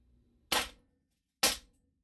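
Two sharp, loud gunshots about a second apart ring out from an AR rifle fitted with a rail-mounted brass catcher, each dying away quickly into quiet.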